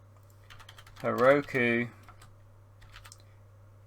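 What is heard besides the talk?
typing on a computer keyboard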